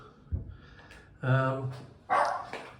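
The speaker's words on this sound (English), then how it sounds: "Nice dogs barking" A dog barks a few times nearby, short sharp woofs separated by brief pauses.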